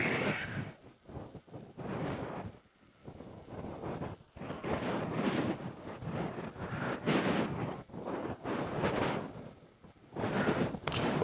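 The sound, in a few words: wind blowing on a helmet-mounted microphone while driving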